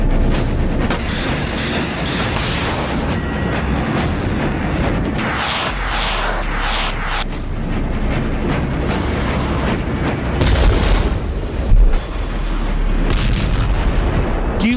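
Repeated heavy booms and blasts from a Russian drone attack on Kyiv, loud and dense, with sustained rumbling and crackling bursts throughout and a sharper peak near the end.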